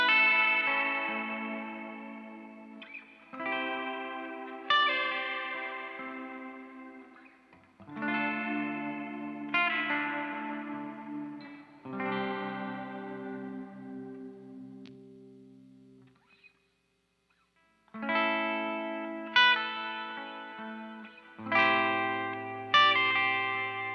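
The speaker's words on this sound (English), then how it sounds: "truly the most inspirational reverb pedal I've ever played" Clean guitar chords ring out in separate strummed phrases, each swelling into a long, lush reverb tail that slowly fades, with a brief silence midway.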